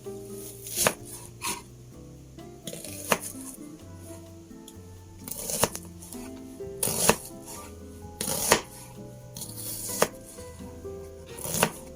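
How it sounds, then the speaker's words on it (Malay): A knife dices an onion on a cutting board, sharp chopping strikes coming in irregular clusters and bursts, close and fairly loud, with faint background sounds between strokes. "ini bawang besar kita kena potong dadu."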